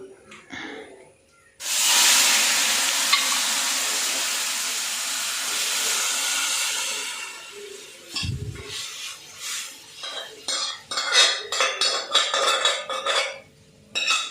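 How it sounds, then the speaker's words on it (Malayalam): A kitchen tap runs in a steady rushing stream while pots and dishes are washed, followed by a series of clattering knocks and scrapes of utensils and vessels being handled and set down. "പാത്രം കഴുകി വയ്ക്കട്ടെ"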